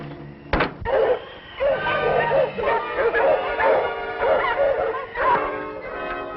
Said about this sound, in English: You hear those dogs? That's Monk's sled.